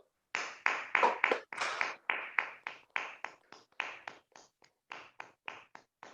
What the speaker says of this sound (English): let us give a thundering up round of applause to the evaluator and the speaker